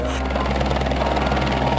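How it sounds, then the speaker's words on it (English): A helicopter thunders steadily and loudly overhead during a desert rescue in Death Valley, its rotor drone constant and close throughout. "I saw the helicopter and I started crying."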